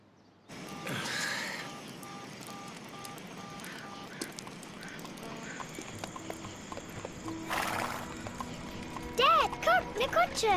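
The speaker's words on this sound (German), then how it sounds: "Dad, komm, eine Kutsche!" Hooves clip-clop steadily from a horse-drawn carriage approaching on a country road, growing louder, with a horse's whinny near the end and faint voices in the background.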